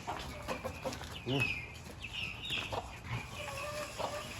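Chickens on a farm cluck and squawk close by in a busy, irregular flurry of short calls, with a person talking in between.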